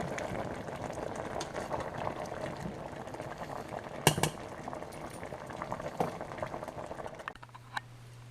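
A pot of green tomato and onion mixture simmers, bubbling and popping steadily at low volume, with a few sharp utensil clinks near the end.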